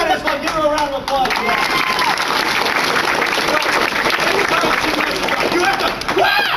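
Round of applause from a convention comedy panel audience, loud and sustained clapping with some cheering, voices briefly audible at the start.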